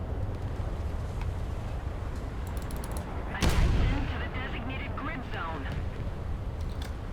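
A single heavy boom of naval guns firing HE shells in a War Thunder sea battle, a sharp blast with a short rumbling tail over a steady, noisy background.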